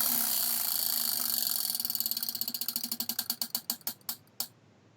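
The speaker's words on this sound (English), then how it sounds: "we're going to spin the wheel" A game show prize wheel spins with rapid, steady clicking that gradually slows, the clicks spreading out until the wheel ticks to a stop.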